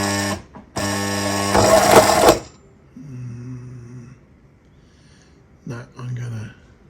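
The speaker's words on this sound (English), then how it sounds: "it should be a bit easier to sew" A sewing machine stitching thin, flexible fabric in a steady mechanical whir, loud in two bursts at first, followed by short quieter runs, with a person speaking between them.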